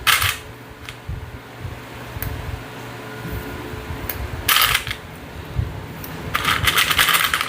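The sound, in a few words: sewing clips clipping fabric edges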